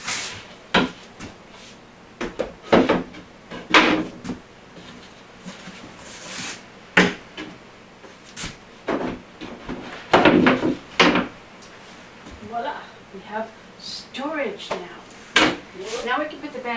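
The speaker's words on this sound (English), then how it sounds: "But I can put the other shelves in now." Shelves going into a converted TV entertainment unit closet produce scattered sharp wooden knocks, clunks and rattles at irregular intervals, close and loud, with a person talking between the bumps.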